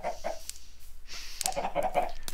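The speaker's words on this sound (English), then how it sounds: "Now, you may hear chickens" Backyard chickens cluck in short, scattered bursts with a brief pause between them, close by and fairly soft, with no one speaking.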